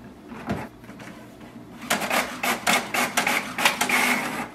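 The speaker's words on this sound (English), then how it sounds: "Click on the print test page. This will give a confirmation if printer is working or not." An HP OfficeJet Pro 8210 inkjet printer printing a test page: a low motor hum, then a rapid series of rhythmic mechanical clacks and whirring print-head passes, close by with no talking.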